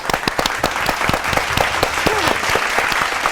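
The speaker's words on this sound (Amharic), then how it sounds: "ለሰላም ቡድኖች አጨብጭቡ" A children's studio audience on an Ethiopian TV game show applauds a winning team with sustained, lively, close clapping and a brief voice partway through.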